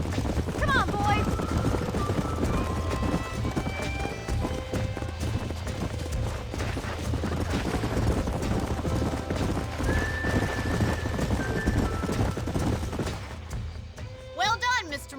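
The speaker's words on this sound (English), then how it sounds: "These are fine horses." Horses gallop and whinny in Red Dead Redemption, set at a siege of Fort Mercer: close clip-clopping hooves run steadily, with several high neighs rising over the thudding gait, dropping to quieter hoofbeats near the end.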